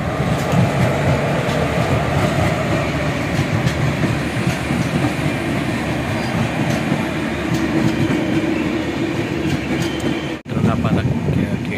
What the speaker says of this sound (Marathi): इथं बघा तिसरी ट्रेन दिसते आपल्याला क्रॉसिंग करताना